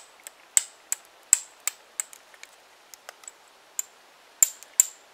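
A flint edge being trimmed during knife knapping gives sharp, bright stone-on-stone clicks and ticks at an irregular pace, some louder than others, close up against near silence with no talking.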